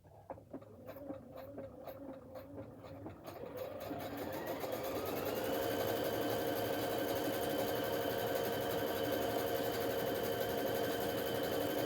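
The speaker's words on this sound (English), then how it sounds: "it looks like we have a stretch stitch here. Let me try this one." A sewing machine running a stretch stitch for stretch fabric, starting with slow, uneven needle clatter and quickly building to a steady, fast mechanical hum and rattle that runs on alone at close range.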